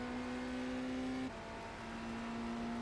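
Race car in a Daytona 24 endurance racing sim, steady engine tone that drops in pitch partway through as it slows for a corner, a continuous close drone with no talk.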